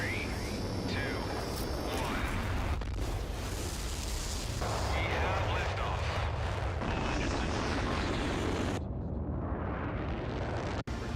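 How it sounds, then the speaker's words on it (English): Rocket in a PS5 video game launching with a loud, sustained roaring rumble that shifts in character over several seconds before cutting off abruptly near the end. "let us launch this rocket"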